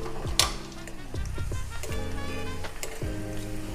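Garlic frying in oil over a low gas flame, a steady close sizzle with a few sharp clinks of a utensil against the pan.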